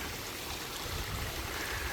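Continuous rushing of flowing creek water on a hiking trail, close and steady, filling the whole moment with broadband hiss and no voices.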